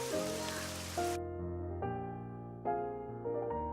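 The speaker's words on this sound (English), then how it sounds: "while rain and wind continued to pound against the window" Steady rain hisses against a window in a video game for about a second, then cuts out abruptly while soft melodic game music carries on.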